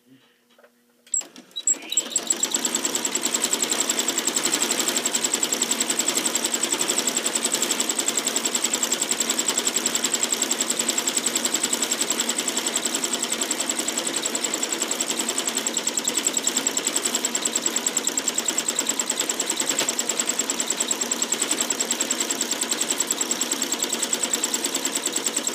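A sewing machine stitches thread painting on fabric, starting after a brief pause and then running loud and continuous with a steady rapid whir and a high whine for the rest of the time.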